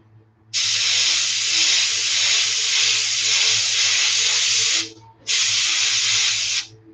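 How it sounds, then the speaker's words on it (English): An airbrush sprays paint onto a bullfrog fishing lure in two sustained bursts of close, even hiss, the first about four seconds long and the second shorter after a brief pause, over a low background hum. "So I'm just carefully spraying this"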